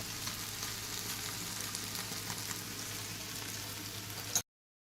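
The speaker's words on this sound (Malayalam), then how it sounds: "അതിലാണ് ഈ മത്തി നന്നായിട്ട് മൂത്ത് വരുന്നത്." Sardines with black pepper fry in coconut oil, a soft, even crackle and sizzle close by that holds steady, then stops sharply at the end without any speech.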